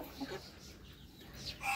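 Rhode Island chickens clucking close by in a few short, soft bursts, with brief quiet gaps between the calls.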